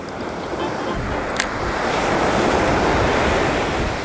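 Heavy ocean surf breaks steadily on a beach where someone is fishing with a metal lure, a loud continuous wash of waves mixed with wind buffeting the microphone, with no talking.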